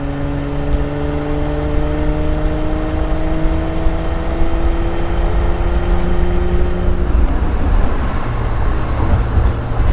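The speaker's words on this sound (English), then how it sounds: "We'll get up here and we'll go into overdrive when we get in the tunnel." A 1976 Triumph TR6 engine whines on acceleration, several steady rising tones climbing together under road rumble, then breaking off into a lower, rougher drone as it shifts into overdrive near a tunnel.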